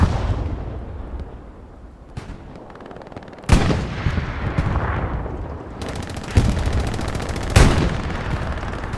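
Tank cannon fire and gunfire in Hell Let Loose on Omaha Beach, several sharp loud blasts spaced a couple of seconds apart over continuous distant battle noise and rattling shots.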